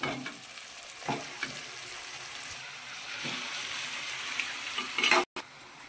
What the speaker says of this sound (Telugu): ఇప్పుడైతే చేపలు వేసుకుంటున్నాయి, కలుపుకున్నాయి కదా